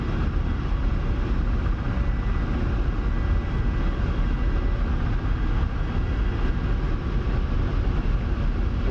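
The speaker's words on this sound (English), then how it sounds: "Seems like a pretty cool helicopter so far." Steady, loud engine drone and rotor roar of a Ka-50 Black Shark helicopter in flight in DCS, an unbroken, even hum with no talking.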